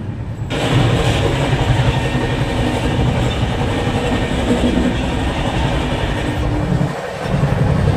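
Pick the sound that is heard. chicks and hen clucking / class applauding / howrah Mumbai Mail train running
howrah Mumbai Mail train running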